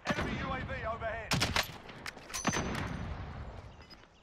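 Gunfire in Call of Duty: Modern Warfare, several sharp shots and short bursts crack out between stretches of game sound, loud and close, with a voice talking in the opening moments.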